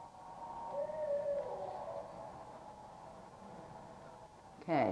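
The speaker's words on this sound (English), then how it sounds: "the first time that I had heard these bizarre owl calls" Faint, wavering owl-like hoot calls in a field recording drift over a noisy outdoor background, followed by a louder, harsher call in the last second.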